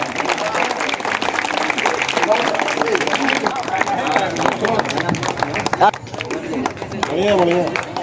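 Audience clapping at a Congress Minority Department community event in Asansol, steady applause running throughout beneath someone speaking over it, with crowd murmur.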